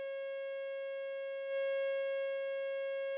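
Steady pure sine-wave tone played through a Grammatico GSG100 guitar amp, a constant clean pitch with faint overtones that swells a little louder halfway through.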